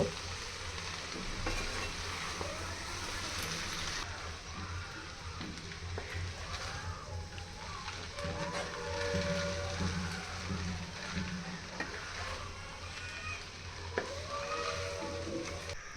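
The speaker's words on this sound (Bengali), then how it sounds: "এখন সবগুলো একসাথে ভালো করে নেড়ে নিব।" Vegetables, capsicum and boiled noodles sizzle steadily in a hot pan while a spatula stirs and scrapes through them in repeated strokes, close and continuous, for vegetable egg noodles.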